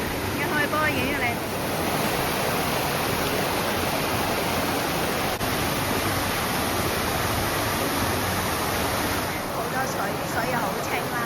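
Powerful waterfall at Wang Chung Stream swollen after rain, a continuous dense roar of falling water close by that holds steady at high volume throughout, with faint voices briefly at the start and end.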